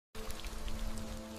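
A gentle rain falls steadily, a soft, even hiss of drops that starts abruptly and continues at constant strength without any talking.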